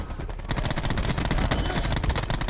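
Loud, close gunfire from the DAEMON 3XB MKII in a shooter video game, a dense run of rapid shots that starts after a brief quieter moment and keeps going without pause.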